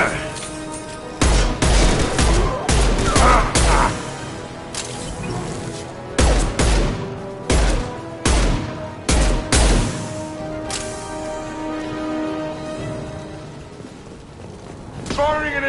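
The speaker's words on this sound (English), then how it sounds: "Firing an impact shot!" Repeated heavy gunfire bursts in the Mass Effect 2 video game, loud booming volleys clustered in groups with brief pauses between them, set over a continuous game music and ambience bed.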